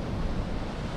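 Wind and waves on a windy beach at Skegness during a sea fishing match, steady broad rushing surf and gusting wind noise against the microphone, continuous and fairly faint.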